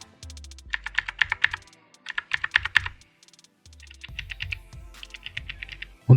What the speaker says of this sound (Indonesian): suara yang keluar dari keyboard ini lebih banyak dari suara keycaps yang berhantaman dengan switchnya dibanding dengan suara khas Blue Switch itu sendiri